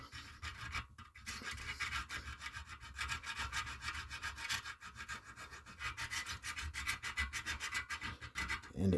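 A file rubs a burr off a wooden spoke with continuous close scratchy rasping strokes, fairly quiet and steady, with no talking.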